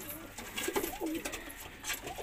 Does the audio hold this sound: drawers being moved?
no